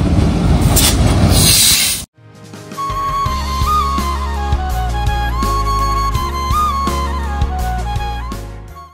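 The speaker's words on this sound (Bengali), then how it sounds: "ট্রেন কিন্তু ঢুকে পড়েছে।" A train pulls into Petrapole station on the India–Bangladesh border: a loud noisy rush gives way to screeching wheel squeals and a deep rolling rumble as the carriages come in close.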